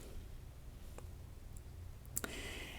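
A single keyboard Enter key press, a faint sharp click with a quick double tick against a quiet background hum, alone without talk.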